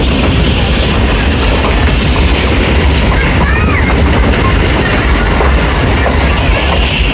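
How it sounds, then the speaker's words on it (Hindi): Rehman Baba Express passenger train running through Pabbi station: a steady, loud rumble of wheels and carriages with a broad hiss of motion, continuous and close throughout. "पब्बी से पास थ्रू हो रही है 48 टाउन रहमान बाबा एक्सप्रेस"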